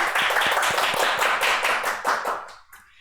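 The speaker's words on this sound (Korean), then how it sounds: "박수로 환영하겠습니다." An audience at a Korean labor-group debate forum claps in welcome of the presenter, a brisk, fairly loud burst of many hands that thins out and fades over the last half second.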